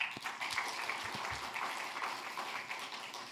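Church congregation clapping during a Sunday morning worship service, a short burst of scattered applause, fairly quiet and fading after a few seconds.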